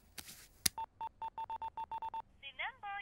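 A telephone is dialed, a run of about ten short, evenly spaced keypad tones in quick succession, then a brief ringback or connecting chirp, after a sharp click and some background rustle.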